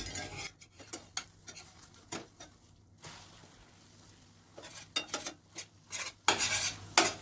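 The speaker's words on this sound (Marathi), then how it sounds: "आता सगळीकडून चांगलं परतून घ्यायचं लाल कलर येईपर्यंत." Chopped egg pieces are stirred and sautéed in a pan over a low flame for egg chili. Repeated scraping and clinking of a utensil against the pan is heard, with a faint sizzle underneath and bursts of louder stirring toward the end.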